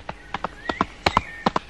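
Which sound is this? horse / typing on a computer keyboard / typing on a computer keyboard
horse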